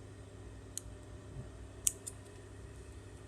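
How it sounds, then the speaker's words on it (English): Scissors trimming excess thread from an overlocked seam on a right-angle corner, with a few quiet, crisp snips, one sharper than the rest, against a soft background hum. "trim the corners, trim off our excess thread"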